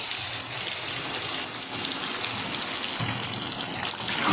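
A mixture of cornflour in cold water with vinegar, soy sauce, chilli sauce and tomato sauce pours into chilli chicken in a pan, making a loud continuous gushing, splashing wash of liquid with no speech.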